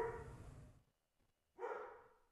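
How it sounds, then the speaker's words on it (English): Dogs barking at neighbouring horses, two bursts of loud close barking separated by about half a second of quiet, with no talk. "the dogs bark at the horses"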